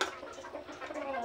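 Chickens cluck softly and steadily at close range while pecking eagerly at conditioning feed, a brief stretch of low murmuring calls.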